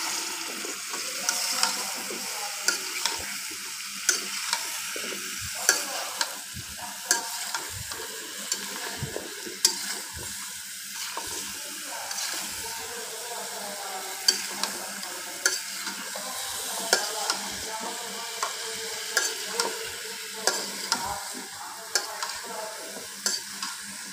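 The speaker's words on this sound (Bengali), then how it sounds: "মশলার সাথে মিষ্টি কুমড়াটা খুব ভালোভাবে মাখিয়ে নিলাম।" Thick-cut pumpkin pieces stirred and fried with spice paste in a pan for a Bengali rohu fish curry, a steady sizzle broken by frequent scraping stirs, close and alone.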